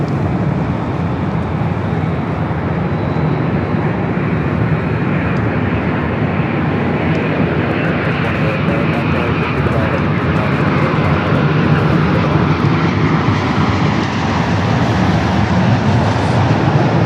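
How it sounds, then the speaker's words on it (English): Boeing 787-8 Dreamliner arriving at LAX from Tokyo Narita, a continuous loud broadband jet roar that holds steady and close for the whole stretch, with no talk over it. "we got on the pod the Dreamliner coming in from Tokyo Narita."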